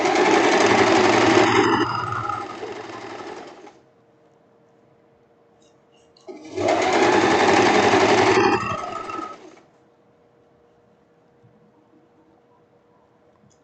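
An industrial overlock sewing machine runs through silk fabric in two loud, steady bursts of fast, high-pitched whirring, close by, separated by a few seconds of near silence.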